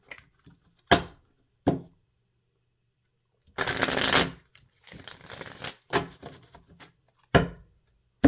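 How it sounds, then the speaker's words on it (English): Tarot cards are shuffled close by, a riffling burst followed by a looser shuffle, with sharp taps of the deck before and after. "Do one more shuffle."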